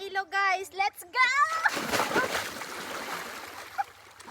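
Children's voices chatter briefly, then a sustained rush of river water with splashing from bathing continues close by.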